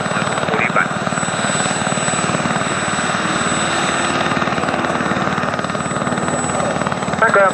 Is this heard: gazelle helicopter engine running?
yes